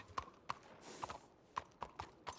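A horse's hooves clip-clop in a roleplay video game, a steady walking rhythm of six or seven distinct, fairly faint hoof strikes.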